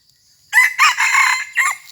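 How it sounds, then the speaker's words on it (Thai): A fighting rooster crows once, close and loud, with a strained, broken call of several bursts after a quiet start. "ตัวนี้ขันถีนะครับ"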